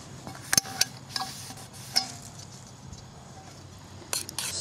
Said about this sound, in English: Stir the noodles and the meat and the sauce all together here.